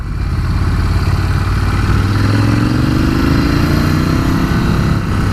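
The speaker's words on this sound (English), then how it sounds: "Loving this engine note." A 2019 Ducati Scrambler 1100 motorcycle engine while riding through hilly Tuscany, a loud steady drone with rising pitch as it revs, accompanied by wind noise.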